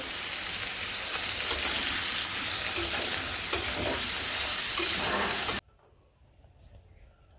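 Vegetable khichuri fries in a pan with a steady, loud sizzle for about five and a half seconds, then the sound drops to near silence.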